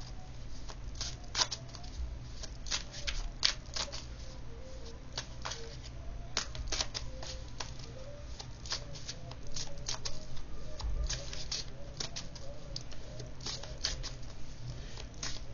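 Tarot cards being shuffled at close range, a continuous soft patter of rapid riffling and snapping card edges over a low steady hum, lasting throughout with faint speech.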